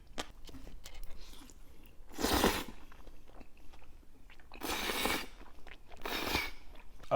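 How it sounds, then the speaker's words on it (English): Crunchy radish is bitten and chewed up close during a Korean jjajangmyeon and tangsuyuk meal, with three sharp, crisp crunching bursts separated by quiet pauses. "The radish is so crunchy."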